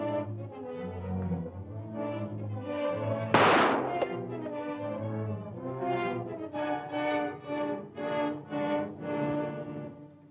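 A single gunshot cracks out over dialogue and a dramatic orchestral score in the 1937 western Riders of the Whistling Skull, with a voice barking threats before and after the blast.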